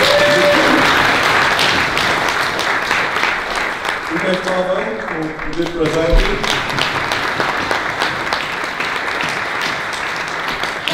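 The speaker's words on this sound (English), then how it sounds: "We have Jason, stand up and give applause." Crowd at a tech conference breaks into sustained applause, many hands clapping steadily for about ten seconds, with someone speaking briefly over it midway.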